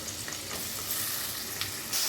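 Onion and green chilli pieces fry in oil left over from frying eggs, a continuous close, even sizzle with faint stirring scrapes and no voices.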